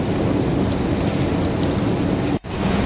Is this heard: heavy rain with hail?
yes